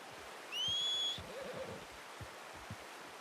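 A horse in the video game Red Dead Redemption 2 gives a single high whinny lasting about a second, clear over soft background ambience and scattered low thumps like hoofsteps.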